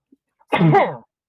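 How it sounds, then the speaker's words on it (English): A single sharp sneeze bursts out close by after a brief quiet moment, loud and alone, fading quickly. "And sneeze incoming."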